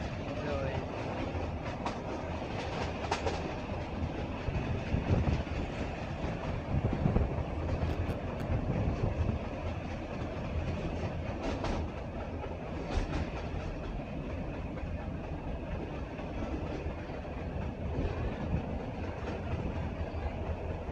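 A meter gauge train from Junagadh to Sasan Gir runs past Girnar mountain with a steady rumble and clickety-clack of wheels on rails, heard from aboard, continuous and even throughout.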